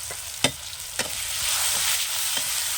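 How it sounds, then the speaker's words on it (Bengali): Chopped onion frying in a pan with whole cumin, dried chilli and bay leaf, a steady close sizzle broken by several sharp scrapes of stirring. "এটা একটু ভালো করে আমি ভেজে নেব"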